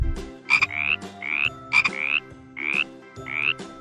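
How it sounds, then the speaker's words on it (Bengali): A frog croaking close up in a repeated pattern of short two-part calls, each a quick burst followed by a rising chirp, about five calls in a steady rhythm with no voices. "ইঙয়ে ব্যাঙ"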